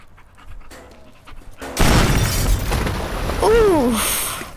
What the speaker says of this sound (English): that did a bigger explosion than I thought it would